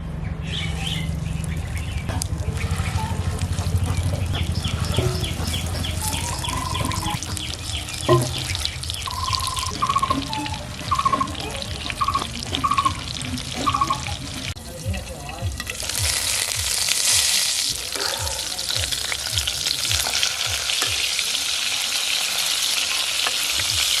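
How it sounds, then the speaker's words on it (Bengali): River tiger prawn fritters fry in hot oil with a steady, dense sizzle, broken by clinks of stirring and a few faint chirps, the crackle growing brighter and hissier toward the end. "তেলে বাকি বড়াগুলো ভেজে নেবো"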